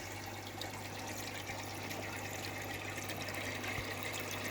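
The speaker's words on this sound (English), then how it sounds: "Powerhead is pumping up water through that" A powerhead pump pushes water through a splitter in a fish fry tank, giving a steady close trickling and bubbling wash with a low constant hum underneath, unbroken and without voices.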